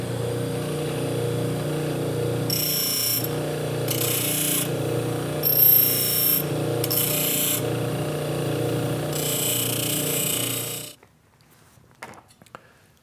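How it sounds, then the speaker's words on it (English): A deburring wheel on a buffer takes the edges off freshly milled metal parts: a steady motor drone with bursts of harsh grinding as each piece is pressed in, then the machine cuts off abruptly. "let me run these over to the buffer and take the edges off with a diamond with"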